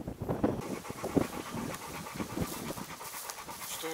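A Kurzhaar (German Shorthaired Pointer) pants rapidly and close by while resting outdoors, a steady rhythmic huffing that fades slightly toward the end.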